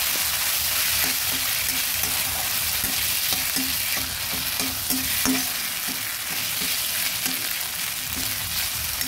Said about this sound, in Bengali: আদা বাটাটা ভালোভাবে ভাজা হয়ে আসলে